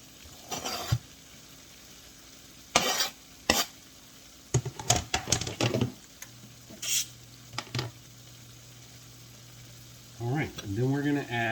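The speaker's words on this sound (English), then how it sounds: "now I'm going to add our chopped onion that we chopped up before" Chopped onion sizzling and frying in a pan while being stirred for keto beef empanadas, with intermittent scraping stir strokes and a low frying hiss, ending in a denser burst of sizzle.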